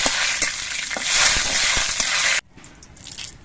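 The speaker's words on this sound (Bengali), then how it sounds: "কালো জিরে আর শুকনো লঙ্কাটা ভাজা হয়ে গেছে" Black cumin and dried chilli fry in hot oil with a loud, dense sizzle and scraping stirs, which cut off abruptly to a much quieter crackle near the end.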